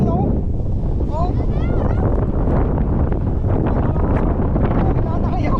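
Strong wind roars across the microphone on the slopes of Mt. Batulao, a loud, steady, buffeting rush throughout, with voices faintly under it.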